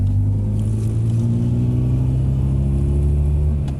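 Rear-mounted air-cooled engine of a Polski Fiat 126p roaring, close and loud, with a rough, coughing low drone that holds steady throughout and fades slightly at the end.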